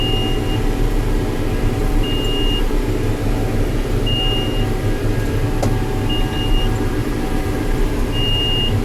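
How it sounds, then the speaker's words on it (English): A hay baler monitor beeps repeatedly because a faulty door sensor reports the door open, short evenly spaced tones sounding over a constant loud tractor engine drone in the cab. "my baler monitor is beeping at me"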